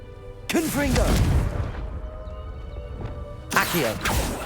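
The Confringo blast spell in Hogwarts Legacy: two forceful bursts, one near the start and another about three seconds later, with a quieter rumble between them and game voices mixed in.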